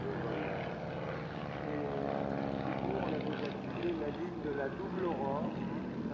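A Boeing Stearman biplane on a training sortie drones steadily with a continuous radial propeller engine tone, loud and sustained throughout without a break.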